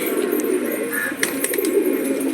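Pigeons in a loft keep up a steady, close murmur of cooing, with a few sharper calls standing out over the dense flock sound and no talking.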